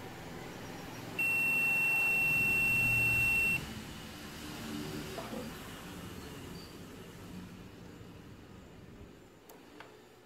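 A multimeter gives a steady, high continuity beep of about two seconds while testing a microwave oven transformer, followed by quiet handling noise and a faint click.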